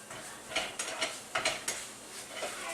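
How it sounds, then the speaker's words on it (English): A utensil stirs lobster, egg and cheese in a hot pan, producing soft scraping strokes and light clinks over a faint sizzle, close by. "Stir it up a bit more."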